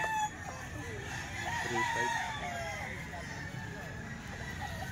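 Young stag rooster about 18 months old crowing at an outdoor fowl market, a single drawn-out crow rising near the start, with chatter and market noise around it.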